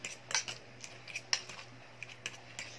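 A fork mixing mashed avocado with yogurt in a bowl, faint irregular metallic clicks and scrapes against the dish, close and quiet over a low hum.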